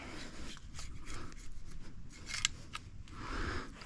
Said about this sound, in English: I just come in here and get all that sawdust out